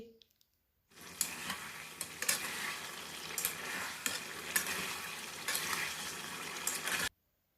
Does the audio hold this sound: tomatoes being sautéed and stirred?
yes